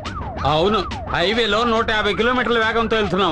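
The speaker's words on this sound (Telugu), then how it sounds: "సైరన్ సౌండ్ అండి." A car-mounted siren wails in rising and falling sweeps on a highway, loud and close, while a person speaks over it.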